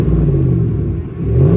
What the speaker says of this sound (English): Let me see if I can give you guys some revs where y'all can kind of get an idea on how it sounds.